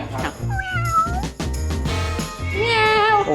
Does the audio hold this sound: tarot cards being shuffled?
no